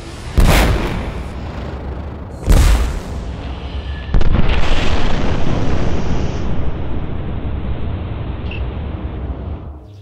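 Explosions inside industrial pipework: two sharp, loud booms early on, followed by a sustained roaring blast that carries on until near the end, with no talk.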